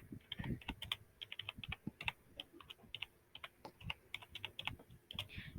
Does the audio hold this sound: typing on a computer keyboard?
yes